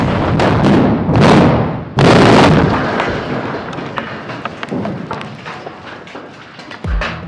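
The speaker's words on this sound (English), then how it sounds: "The explosive charges were reduced to protect the nearby retaining wall from vibrations. Nevertheless, the blasts are impressive." Heavy blasting charges detonate inside a tunnel construction site, two powerful booming explosions in quick succession followed by a long rumbling, rattling decay and a final low thud.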